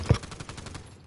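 Pistol gunfire in a multiplayer video game, a sharp close shot followed by a quick rattle of fainter shots in a brief burst.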